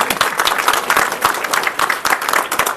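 Brisk, dense applause fills a retirement party in a Delhi Transco office, with many hands clapping steadily and close for the whole short stretch.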